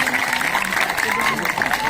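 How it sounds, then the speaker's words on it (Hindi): Audience clapping at a school camp closing ceremony during a prize presentation, a dense, steady patter of hand claps that lasts the whole moment, with a voice speaking over it. "जोरदार तालियां बजा के स्वागत किया"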